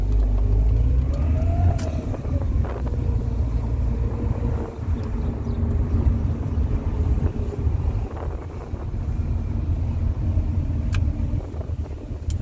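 A Rover 45 Impression S3 with a CVT gearbox driving, a steady low rumble of engine and road noise with wind buffeting the microphone and faint rising whine, no talk.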